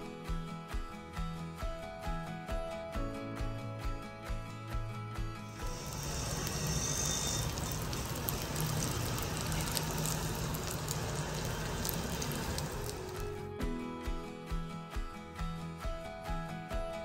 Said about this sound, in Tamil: இதில் நம்ம வந்து இந்த பேட்டரை ஊற்றிட்டு பணியாரம் சுட்டு இறக்க போகிறோம்